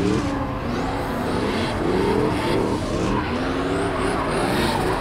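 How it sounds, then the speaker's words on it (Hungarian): Toyota Soarer UZZ30 and Lancer EVO IX on a track day, tires squealing and skidding under loud engine roar, with rising screeches repeating through the run. "Ott már ég a gumi."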